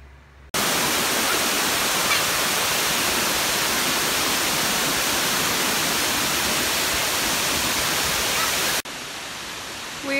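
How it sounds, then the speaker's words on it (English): Amicalola Falls pours as a loud, continuous roar of rushing water, broad and steady for most of the stretch before cutting off abruptly near the end. "There's a waterfall right behind me."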